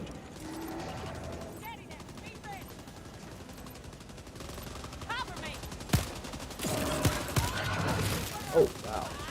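Helldivers 2 gameplay with mechanical clicks and ratcheting weapon handling, then bursts of rapid gunfire and sharp shots growing louder toward the end, with game voices talking over parts of it.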